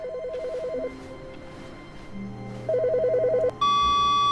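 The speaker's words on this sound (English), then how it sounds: "The phone's ringing again." A telephone in The Stanley Parable rings in two electronic trilling bursts separated by a quiet gap, clear and alone over a low steady hum.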